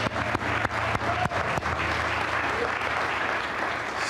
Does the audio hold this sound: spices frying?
no